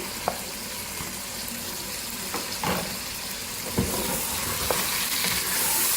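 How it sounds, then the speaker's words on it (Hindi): Tomatoes and green chillies with cumin fry over high heat in a pot, making a continuous close sizzle broken by several scraping stirs of a spoon, with no voices over it. "इसको जरा भूनेंगे तेज़ आंच से।"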